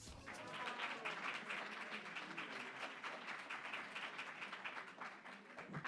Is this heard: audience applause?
yes